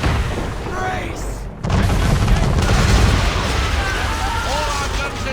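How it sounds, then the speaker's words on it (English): A heavy man-of-war warship's cannons fire in Assassin's Creed III, a deep booming blast bursting in loud and sustained with rumbling, crackling debris, as a voice shouts briefly before it. "Man of war firing!"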